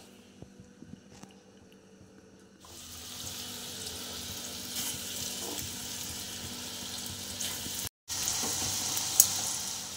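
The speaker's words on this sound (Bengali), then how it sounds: "এইভাবে আমি সবগুলো ভেজে নেব।" Ros bora dessert balls fry in hot oil, a soft steady sizzle that starts after a quiet opening and continues evenly, with faint stirring clinks.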